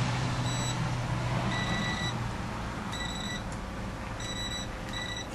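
A small electrical voltage tester beeps in short repeated bursts while being checked against the wires of an exterior light fixture, its tone sounding intermittently over a steady background hum.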